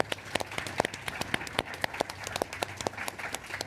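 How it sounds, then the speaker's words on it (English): Scattered applause from a small audience at a panel discussion event, with individual claps spaced irregularly rather than a dense roar, moderately quiet and alone without talk. "I think we should give all of them a big round of applause"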